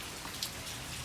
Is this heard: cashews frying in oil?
no